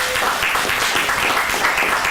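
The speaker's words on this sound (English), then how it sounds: "give a round of applause." Audience applause at a community economic empowerment workshop on budgeting, a dense steady wash of many hands clapping throughout, fairly loud and unbroken with no talk over it.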